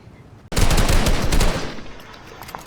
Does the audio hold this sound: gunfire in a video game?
yes